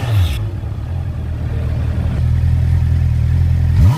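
A Honda four-cylinder car on its stock exhaust gives a loud, close, low rumble that builds and swells as the engine revs, ending in a brief higher pitched sweep.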